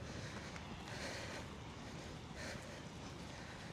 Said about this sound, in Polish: Ludzie się kąpią, ale fale są dość mocne.